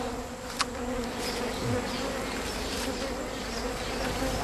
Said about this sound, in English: These guys are putting their hands into an unsmoked bee's nest and pulling out honey.